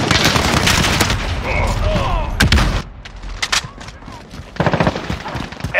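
Loud automatic gunfire and booming shots from a Call of Duty Modern Warfare multiplayer match, rapid bursts continuing with sharp reports near the end, with game voice callouts mixed in.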